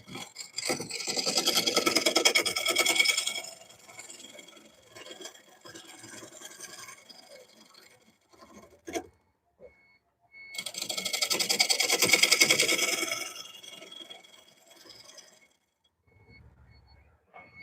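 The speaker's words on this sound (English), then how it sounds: "This scraping move really does that." Bowl turning on a wood lathe, with the gouge scraping and shaping the inside of the spinning bowl. Two long, loud rasping bursts are separated by quieter scraping and short pauses, and no one speaks.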